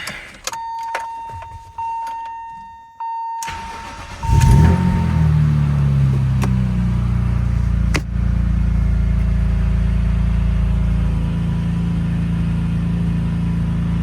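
A BMW E30 M3 with an S54 engine cranks and fires up sharply after some clicks and a steady tone, then settles into a loud, close, rough idle with a brief blip partway through.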